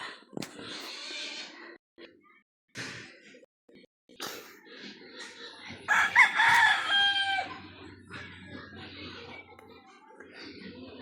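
Roosters crow and chickens cluck around a rural spot, with a loud crow in the middle and softer calls scattered before and after, while people talk nearby.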